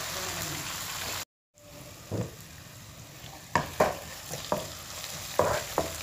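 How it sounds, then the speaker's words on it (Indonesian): Vegetables stir-fried with ground spice paste sizzle steadily in a pan, broken by a brief gap and then several sharp scraping stirs of the utensil at irregular intervals, close and moderately loud. "aku mau goreng, mau oseng sayurnya dulu"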